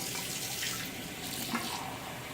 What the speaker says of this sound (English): just run water over my razor when I'm ready to rinse it off